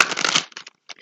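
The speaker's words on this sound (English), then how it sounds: "we'll do one final shuffle" A quick riffle of cards, a rapid fluttering burst, followed by a few soft taps as the deck settles.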